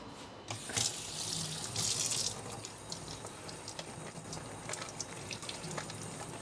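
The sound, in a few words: washing items under running tap water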